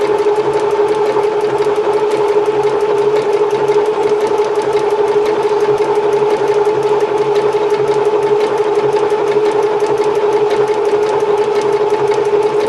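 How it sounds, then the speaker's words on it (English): A sewing machine stitching a zigzag seam to neaten the edge, running in one loud, even, rapid mechanical whir with a fast needle clatter and no pauses. "let the sewing machine do what it's going to do"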